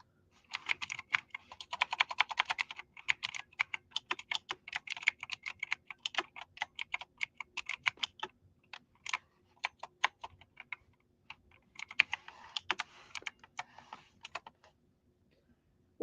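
Typing on a computer keyboard, quick bursts of light clicking keystrokes in irregular runs with short pauses between, close and quiet with no one speaking.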